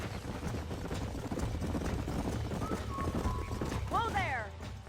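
Horses in the Red Dead Redemption video game clip-clop steadily on the ground under continuous game ambience, and one horse gives a clear whinny near the end.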